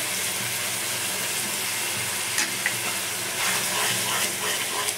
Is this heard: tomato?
yes